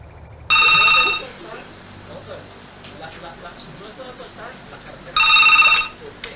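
A landline telephone rings in two bursts of electronic trilling, near and loud, with a pause between them filled by faint background voices in a shared household.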